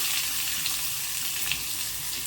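Steady, crackling sizzle of chopped onion frying in hot oil, loud and continuous, with faint scattered pops and no voices.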